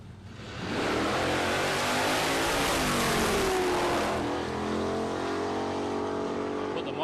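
A Camaro drag car makes a run at Palmyra Dragway. Its engine bursts into a loud, sustained roar that holds with shifting pitch through to the end.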